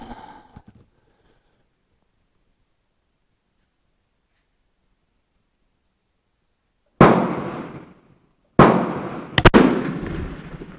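Martini-Henry rifle firing outdoors, with three sharp, loud reports that each ring out into a long decaying echo. The last two come in quick succession after a quiet pause.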